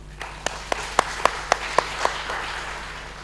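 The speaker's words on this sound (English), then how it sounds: "So a round of applause for them." An audience at an academic meeting in Bangalore claps in a sparse, light round of applause, with a handful of distinct claps spaced out over a few seconds before fading, no one speaking.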